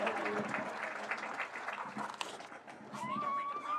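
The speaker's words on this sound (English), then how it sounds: "And a big round of applause for Canine Cuda." An outdoor crowd applauds steadily at a police K9 dog exhibition, with clapping filling the clip alongside a little background noise.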